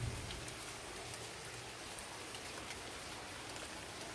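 Steady rain falls throughout a mild storm in Kansas, a dense, even hiss of drops on surfaces with no break and no one talking.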